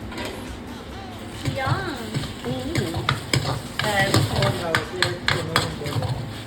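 Chicken with homemade garlic-ginger paste is fried and stirred in a pan. A steady sizzle mixes with repeated scraping and clinking of the spoon, and people talk over the cooking.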